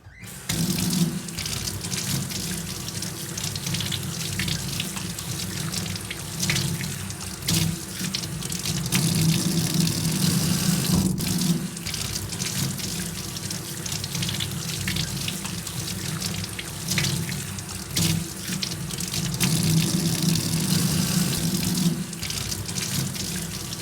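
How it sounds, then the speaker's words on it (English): Hands washed under a running kitchen tap while preparing chicken: a steady, close rush of water with shifting splashes as hands move through the stream, continuous and alone without speech. "I'll literally just wash it off with water and then dry it"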